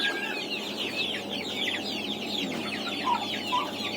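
Chickens and turkeys in a mixed brooding pen on a Saraburi poultry farm, including native, black-boned and big-footed chickens, cluck steadily in a busy overlapping chorus. The fowl are near and continuous, with no talk.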